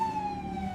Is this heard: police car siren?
yes